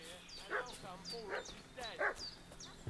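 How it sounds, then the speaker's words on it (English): A dog in the video game Kingdom Come Deliverance 2 barks at a distance, several separate barks spaced about half a second apart, faint under a quiet ambient soundscape. "What's that dog making such a fuss about?"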